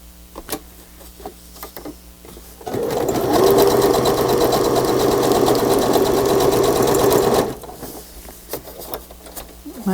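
A sewing machine stitches back over fabric trim in one continuous loud, rapid whirring run of a few seconds, framed by quieter handling clicks and small taps before and after.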